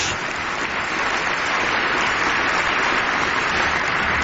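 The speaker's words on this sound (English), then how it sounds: "Who's that clapping like an idiot?" A large crowd applauds during the State of the Union address, a loud, dense, continuous roar of clapping with no pause.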